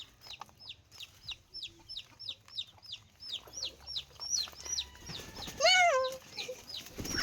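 Chickens on a Filipino homestead cluck in a quick repeated series, close and clear, and the sound rises into a louder squawk near the end over faint background noise.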